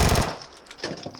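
Gunfire in the battle game PUBG, a loud burst of rapid shots at the start that fades, followed by a couple of fainter later shots.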